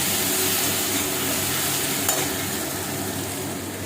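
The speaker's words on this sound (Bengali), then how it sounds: "টমেটো আর রসুন দিয়ে ভালো করে ভেজে নিতে হবে।" Tomato and garlic frying in a pan, a dense steady sizzle close up, loud and unbroken with one brief sharper crackle midway.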